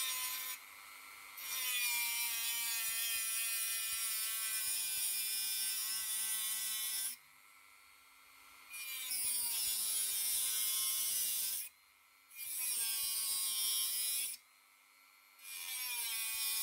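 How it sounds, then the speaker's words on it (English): A small rotary tool fitted with a little grinding wheel grinds on metal in a shed, a loud, high whining buzz that runs in several long bursts, each separated by brief pauses as the tool lifts off. "these are little grinding wheels. I'm not sure if this metal will be too heavy for it"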